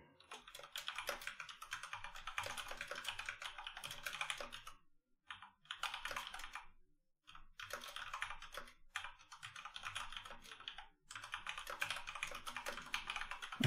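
Computer keyboard typing in steady bursts, broken by a few short pauses, close and fairly quiet, with no talking.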